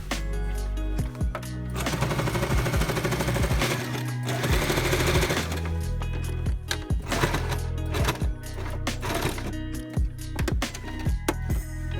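A domestic sewing machine stitches lining fabric for a child's winter overall, running in loud rapid bursts of mechanical clatter separated by short pauses, heard alone without talk.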